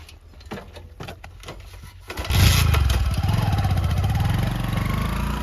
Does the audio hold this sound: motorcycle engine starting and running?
yes